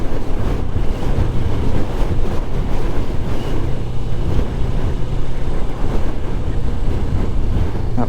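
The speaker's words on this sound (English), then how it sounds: "That wind is absolutely relentless." Strong coastal wind buffets the microphone while riding a Kawasaki motorcycle along the coast, a loud, continuous roaring rumble that never lets up and drowns out everything else.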